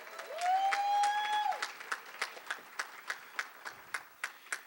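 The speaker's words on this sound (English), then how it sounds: "So let's give them another round of applause." An audience claps for dancers after an original dance piece at a community arts forum. A held tone rings out first, then claps come as a sparse, evenly spaced series that fades gradually.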